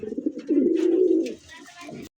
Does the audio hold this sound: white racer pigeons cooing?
yes